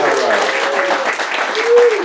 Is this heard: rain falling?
no